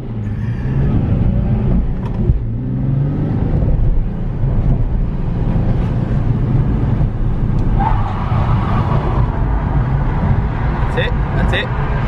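Nissan 350Z drifting at a drift experience track, engine droning and revving steadily and close by under continuous excited talk from people, with brief tyre squeals near the end.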